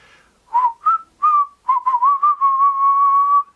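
A person whistles a short melodic tune alone, starting with a few separate clipped notes and then sliding into a longer sustained, wavering phrase.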